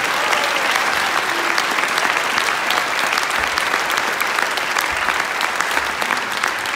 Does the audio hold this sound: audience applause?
yes